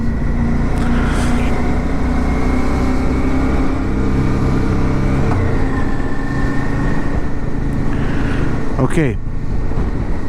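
A motorcycle rides through the small coastal town of Orebić on Croatia's Pelješac peninsula, its engine producing a steady, continuous drone with a rushing wind and road roar. Someone speaks briefly over it.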